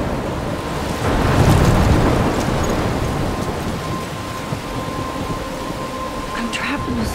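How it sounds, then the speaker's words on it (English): A thunderstorm from the video game Life Is Strange, near a lighthouse, gives a low rolling rumble of thunder that swells early and then fades into steady heavy rain and wind with a faint tonal hum. "I'm trapped in a storm?"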